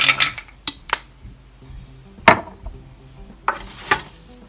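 Watermelon rinds are stirred with calamansi extract in a pan with the heat off, giving a few scattered utensil scrapes and clinks, close and fairly quiet.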